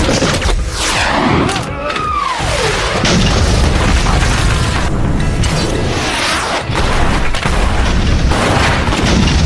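Heavy booming explosions from powerful modern weapons in a surprise battlefield attack, loud continuous blasts and rumbles mixed with whooshing effects and a narrating voice over them.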